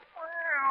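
A human voice imitates a lovesick cat meowing, giving one short, close, rising and wavering meow-like note.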